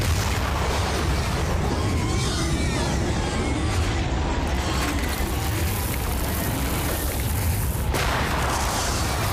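Landmine blasts in a desert action movie scene build into a continuous heavy, rumbling roar of booms, loud and dense from start to finish with no clear breaks.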